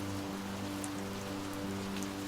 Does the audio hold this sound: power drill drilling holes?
no